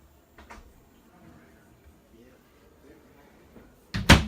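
Cabinet in the bathroom of a 2018 Georgetown 369DS Class A motorhome opening with a sharp, loud knock near the end, after a small click and soft handling noises early on.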